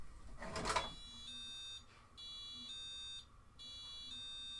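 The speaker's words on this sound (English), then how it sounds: "So now if we open the door, we should hear an alarm." A micro:bit room alarm sounds after a door opens. A brief rustle and knock comes first, then repeated electronic beeping in long pulses with short gaps, faint and steady.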